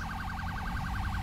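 A police car siren from a Força Tática patrol wails continuously in a steady rising-and-falling cycle, loud and close, with engine and road rumble underneath and no talking.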